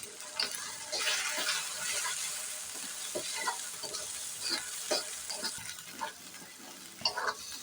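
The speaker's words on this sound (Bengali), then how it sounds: "মশলাটা একদম ভাজা ভাজা করে ফেলতে হবে," Ground spices and garam masala fry for a free-range chicken curry with chuijhal and garlic, producing a quiet, steady sizzle broken by repeated spoon scrapes and stirring against the pan.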